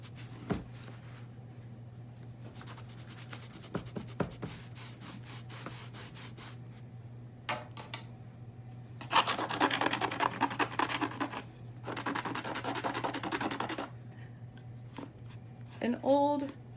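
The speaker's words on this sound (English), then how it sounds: "An old putty knife scrapes it right off then, once you dampen it." Old putty knife scraping damp cardboard residue off book bindings, intermittent scratchy rasping bursts at close range over a low steady hum, with some longer scraping runs in the middle.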